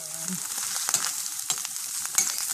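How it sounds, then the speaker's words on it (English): Food frying in hot butter in a pan, a steady close sizzle with small crackles and pops, some louder bursts near the end, no talking. "with some butter, and then I'll fry a little bit of that to do half."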